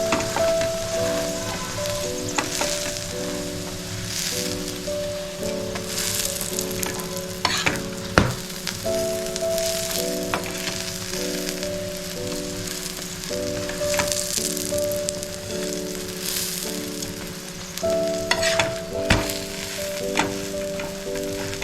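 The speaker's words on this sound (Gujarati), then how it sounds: "આ રીતે આપણે બધા પરોઠા શેકી કાઢવાના છે." Cabbage, cheese and paneer paratha frying on a hot griddle, a steady close sizzle and crackle running throughout with occasional stirring scrapes and light clinks, no voices.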